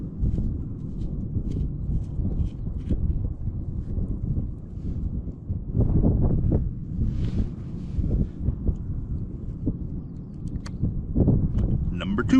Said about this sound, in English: This wind is going to be murder on the video.